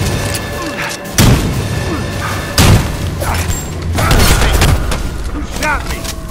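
Two loud, booming gunshots in the horror video game Evil Dead: The Game, spaced a second or so apart, over a busy game background with voices talking.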